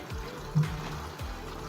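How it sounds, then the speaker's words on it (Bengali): Water pours into a cooking pan with fried tilapia in a soft, close trickle and splash lasting under two seconds, fairly quiet and with no talk. "এখানে আমি মাছটা সেদ্ধ হওয়ার জন্য একটু জল দিলাম"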